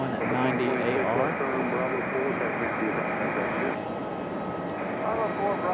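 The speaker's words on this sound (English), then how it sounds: "our next arrival is JetBlue 683 coming in from Boston" A JetBlue Embraer E190 jet arrives at Raleigh-Durham airport, a steady engine drone and hum running beneath talking voices and radio chatter, holding level before easing slightly.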